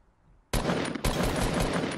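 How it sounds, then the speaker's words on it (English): Assault rifle fire in Fortnite, a dense rapid burst that cuts in abruptly, breaks for a split second, then resumes as continuous loud automatic fire. "Oh, 54 headshot with an AR"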